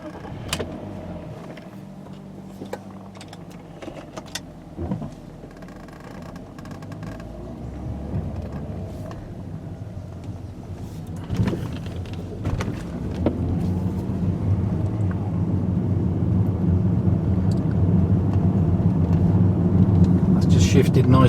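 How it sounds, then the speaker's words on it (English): BMW 528i E39 sedan with an automatic transmission on a road test, its engine note rising steadily and dipping briefly at gear changes as it climbs a hill, loudest toward the end. "going to give it a quick road test, make sure that all the gears shift as they should"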